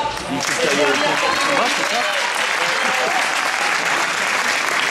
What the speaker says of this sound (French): Allez, on peut les applaudir une dernière fois.